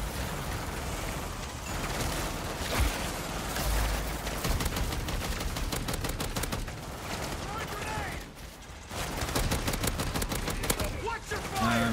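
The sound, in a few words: automated turret firing in MW3 Zombies, from a video game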